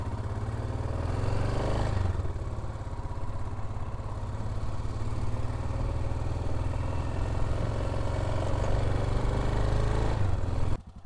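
A 1988 Yamaha Ténéré motorcycle rides through the Amazon forest on the BR-230 near Lábrea, its engine droning steadily and loud with a rumble and wind noise throughout, cutting off abruptly at the end.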